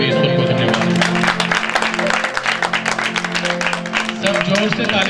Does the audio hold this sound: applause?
yes